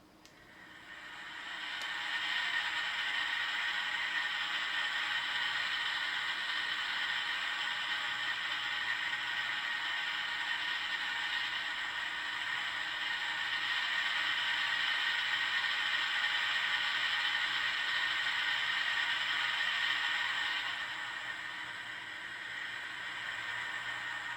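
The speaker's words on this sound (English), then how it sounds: "the next one that we have here is the sound of the engines cruising" A spaceship engine cruising sound effect: a steady mechanical whirring hum with a bright, buzzy hiss sustains evenly for about twenty seconds, then fades off slightly at the end.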